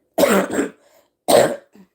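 Two sharp coughs from a lingering cough close to the mic, the first a quick double burst, followed by a faint throaty trailing sound.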